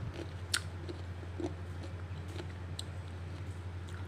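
Crunchy atchara, pickled green papaya, being bitten and chewed close up, with a few sharp crunches over a steady low hum and no talking.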